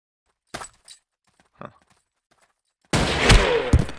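Gunfire in the video game Ace of Spades arrives as a sudden dense volley of shots after a few sparse clicks and near silence, loud and close.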